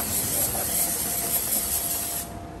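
An AP&T AP AC2456 ionizing air gun with its power supply blows a steady, loud hiss of compressed air that cuts off near the end, leaving quiet.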